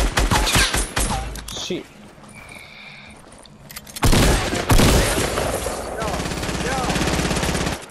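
Rapid bursts of video game gunfire rattle out near and loud, then drop away before a fresh barrage of shots returns, with a player talking briefly and other game effects in between.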